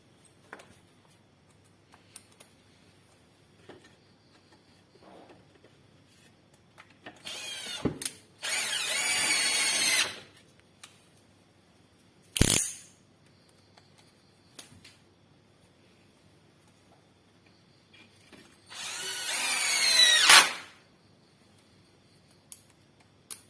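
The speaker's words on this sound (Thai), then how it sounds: "แล้วเดี๋ยวเรามายึดน็อตกันนะครับ" A power drill driving screws into the slide rails of a vertical drawer in a concrete kitchen counter, heard as two sustained whirring bursts and a short one between, with quiet clicks and handling noise otherwise.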